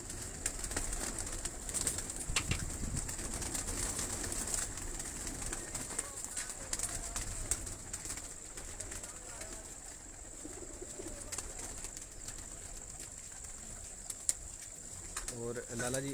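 A pigeon coos softly in the background amid a steady outdoor hiss and faint insect-like whine, low and fairly distant, with no clear talk over it.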